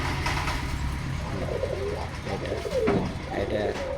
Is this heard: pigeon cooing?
yes